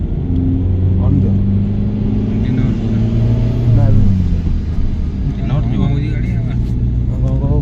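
A car engine revs and accelerates on a steep mountain ghat road, a steady rumbling drone that swells and strains throughout, with people talking over it nearly the whole time.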